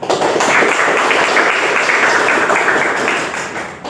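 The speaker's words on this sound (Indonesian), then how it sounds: "Tepuk tangan untuk kita semua." Vocational school students in a classroom clap together in a steady, loud burst that lasts a few seconds and tapers slightly at the end.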